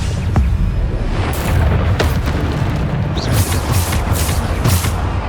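Bombarda spell explosions from the Hogwarts Legacy video game, a string of heavy booming blasts and bursts repeating every second or so over a dense, steady rumbling battle din.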